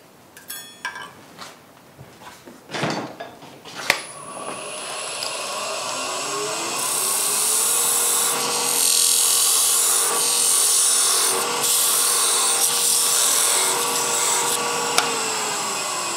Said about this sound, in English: Using a Cristot thin parting tool. It does get hot.